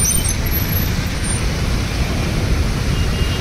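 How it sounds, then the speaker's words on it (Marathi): Road traffic near Mahim church in Mumbai rumbles in a steady, dense low drone of passing vehicles, continuous and fairly loud, with no talk over it. "आणि ट्रॅफिक बघा एकदम वन साईड आहे।"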